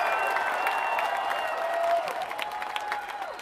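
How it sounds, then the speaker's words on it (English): Concert crowd at an outdoor amphitheater applauding and cheering after a set, a dense, steady wash of clapping with shouts and whistles running through it. "One more time, give yourself a round of applause,"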